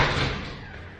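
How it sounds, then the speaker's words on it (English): One sharp bang and rattle as wind throws a door open, then a dull decaying rush of noise fading over a second. "the wind just blew my door open."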